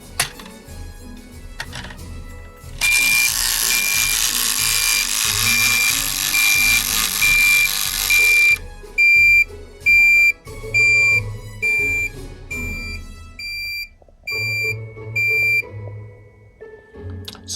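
HESS toy space shuttle launching a satellite, giving a loud continuous electronic tone for several seconds, then a run of sharp repeated beeps in an uneven rhythm, close up with no talking.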